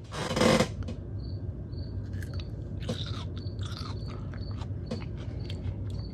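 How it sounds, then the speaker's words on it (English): Crisp crunching as a cinnamon pickle is bitten and chewed up close, a loud first bite followed by softer repeated crunches. "I hope you can hear that crunch."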